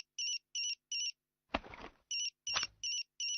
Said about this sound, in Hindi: आपका फोन बज रहा है दीदी।